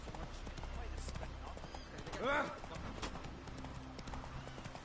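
Roach, a horse in The Witcher video game, clip-clops along in a steady hoof rhythm. A brief whinny rises midway. A voice talks over the hooves.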